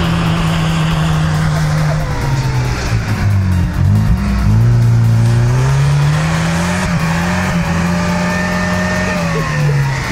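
4x4 off-road vehicle on summer and mud-terrain tires, its engine droning and revving steadily while wheels spin under electronic traction aids, the pitch dipping and climbing midway, loud and close throughout with no talk.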